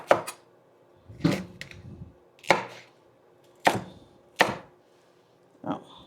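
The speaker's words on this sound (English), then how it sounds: "With the carrots, I'm just going to chop them up a little bit into bite-sized pieces" Carrots are chopped into bite-sized pieces on a cutting board: about six separate sharp knife strikes at an uneven pace, close and clear with no talking.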